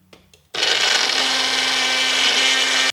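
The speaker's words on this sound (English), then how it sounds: "Everything into the blender." A blender starts up on charred salsa ingredients after a couple of soft knocks, then runs loudly and steadily with a high whirring roar and a constant motor hum until it cuts off.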